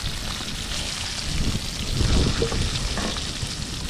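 Fish frying in a pan at an outdoor seaside island cookout, a loud dense crackling sizzle that swells briefly in the middle, close and steady with no talking.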